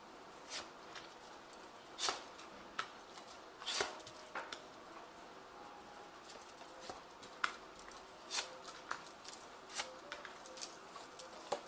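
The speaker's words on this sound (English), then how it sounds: "I have shuffled this deck." Zombie Tarot cards being shuffled in soft, scattered riffles and taps, quiet and close, with irregular pauses between bursts.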